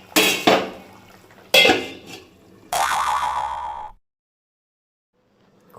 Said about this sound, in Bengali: মাছটা দিয়ে কিছুক্ষণের জন্য আমি ঢাকা দিয়ে দেবো।